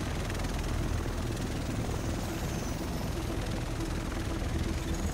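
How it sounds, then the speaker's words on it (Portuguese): A helicopter arriving in the video game The Division, a steady, dense rotor and engine rumble with broad whooshing noise, held at an even level and moderately distant for the whole stretch, with no voices over it. "O resto de nós deve estar nesse helicóptero."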